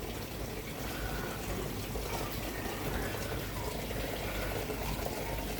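Liquid treatment is poured into a 3,000-gallon fish pool, giving a steady, faint splashing trickle of water that continues throughout, with no talking.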